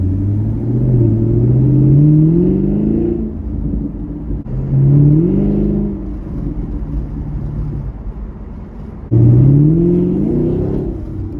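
A 2017 Chevy Camaro 1SS with a V8 engine accelerates hard three times in a row, each pull a loud rising engine roar that drops back before the next surge, with no voices over it.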